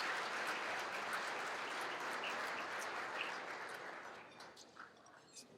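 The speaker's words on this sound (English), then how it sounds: "another round of applause for our honorary award recipient" An audience applauds an honorary award recipient at an engineers' festival, sustained full clapping that thins out and tapers in the last seconds, with no speech over it.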